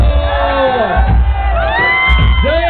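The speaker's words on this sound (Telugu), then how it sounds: "అమరవీరుల కోసం గట్టిగా చప్పట్లు కొట్టండి." Large outdoor crowd at a Telangana state celebration, loud and close, with whoops, shouts and cheering voices rising over a dense roar of applause.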